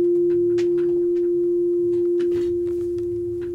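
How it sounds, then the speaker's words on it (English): A digital synthesiser holds a steady pure sine tone, loud and unbroken, with faint clicks and low buzzing underneath. "Okay, so that's the sine wave"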